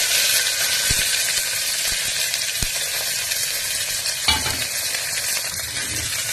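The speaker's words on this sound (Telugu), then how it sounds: "ఇప్పుడు ఆయిల్ వేడెక్కేసింది. ఒక 1/2 టేబుల్ స్పూను ఆవాలు వేస్తామండి. ఇప్పుడు కొద్దిగా ఆనియన్, కరివేపాకు వేద్దాం." Mustard seeds, onion and curry leaves hitting hot oil, giving a loud, continuous sizzling hiss with a few spoon clinks and a sharp burst of spitting partway through.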